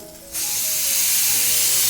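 Steam hisses loudly and steadily from an unweighted pressure cooker vent while tomato rice cooks, a sudden broadband rush that starts abruptly after a quiet moment and holds constant.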